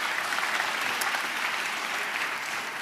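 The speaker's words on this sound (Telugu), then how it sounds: "చప్పట్లు కొడుతూ స్తోత్రాలు చేద్దాం" A church congregation claps hands together in praise during a sermon, a dense, sustained burst of many hands clapping at an even, fairly loud level with no pause.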